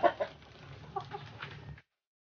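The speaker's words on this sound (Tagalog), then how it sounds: "7 manok o 7 inahin ang naglilimlim sa ngayon." A native hen clucks in short, soft bursts close by, a few louder clucks standing out over a low steady background hum.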